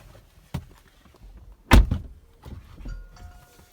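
The rear door of a Range Rover Velar is opened and then shut with a firm, solid thunk, with handling noise and faint rustling around it.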